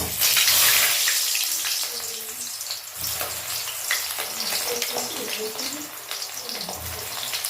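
Long strips of eggplant fry in hot oil, making a broad, hissing sizzle that stays loud and near throughout. A low bump comes near the start.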